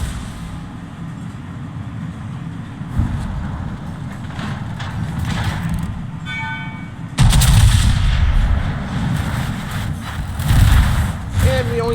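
Naval gun salvo from a warship in a naval combat game, a heavy booming volley that erupts partway through and rumbles on, over steady engine and sea ambience, with a voice talking throughout.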